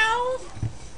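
A cat meows in the video game Submachine 6, giving one short, clear call with a falling tone. A soft low thump follows, and the sound is fairly close and plain.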